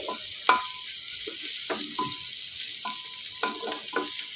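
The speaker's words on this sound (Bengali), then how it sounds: "সবজিগুলোকে তেলের মধ্যে একটু ভেজে নিচ্ছি" Mixed vegetables for dal crackle and sizzle softly in hot oil, interrupted by several short metallic scrapes and taps of a spatula against the pan.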